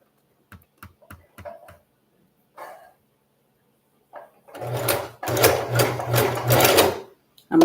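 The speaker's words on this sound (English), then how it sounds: "What I like to do is just hold it in place and start sewing." A Singer sewing machine stitches a lace frontal unit: a few light mechanical clicks at first, then a loud, steady run of rapid stitching from about 4.5 seconds that continues close by almost to the end.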